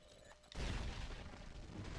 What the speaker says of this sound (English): I have no idea where that explosion just came from.